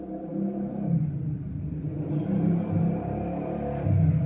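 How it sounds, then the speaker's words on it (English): A motorcycle and street traffic outside rumble as a steady low drone, and an engine swells slightly near the end, heard from indoors at a moderate level with no speech. "Sorry for the motorcycle and outside noise"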